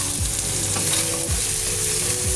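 Chicken and garlic sizzle loudly and steadily in a pan for mala food, with a spatula scraping and stirring at a few points, close up and with no talking.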